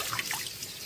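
Water trickling and dripping from freshly washed leafy greens as they are lifted slowly into a sieve, a brief, soft splash close by with no talking.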